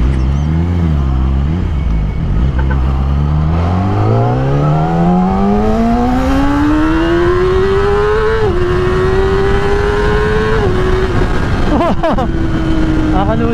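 A Yamaha R6 600cc flat-plane sport bike engine revs loud and close, its pitch climbing steadily across several gears in one long pull, then holding and dropping slightly near the end.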